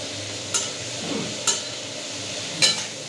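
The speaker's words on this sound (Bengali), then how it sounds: "পেঁয়াজটাকে আমি এইভাবে ভেজে একটু মিক্সিতে গুঁড়িয়ে নেব। এটাকে একটু ভাজা হতে দেবো।" Sliced onions fry gently in a pan over medium-low heat for egg korma, a soft continuous sizzle punctuated by three brief scrapes or taps of a spatula; no voices.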